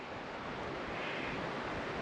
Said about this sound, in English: Kind of windy up here today.